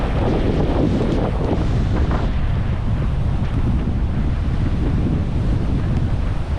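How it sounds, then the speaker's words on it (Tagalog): Big ocean waves in heavy surf roll in beneath loud, gusty stormy wind rumble, a constant wash of water and air noise with no talking. "Lalaki yung alon."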